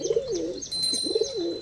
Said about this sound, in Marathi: बाकी आपले कबूतर बघा.